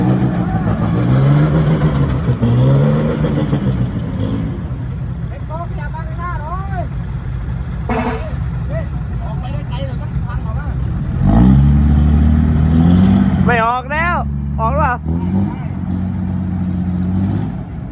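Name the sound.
truck engine revving while shifting into sixth gear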